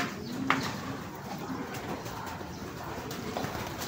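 Pigeons cooing softly at a distance, a few low calls over quiet outdoor background with faint voices.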